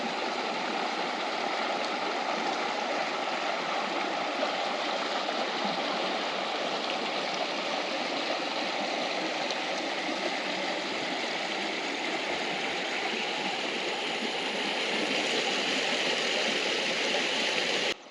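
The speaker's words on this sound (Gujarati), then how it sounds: "તમે જોઈ શકો છો નદીનું સરસ મજાનું પાણી વહી રહ્યું છે." River water flowing steadily near a roadside shrine, a constant, full rushing wash with no break and no voices.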